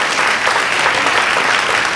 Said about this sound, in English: please a round of applause for him one more time